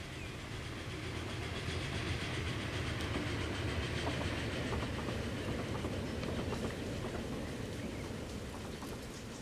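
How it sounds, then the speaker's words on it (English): A train rolls along a railway in the Transport Fever 2 video game, with a steady, faint rumble and rhythmic clickety-clack of wheels that continues throughout without talk. "Oh, here goes a train."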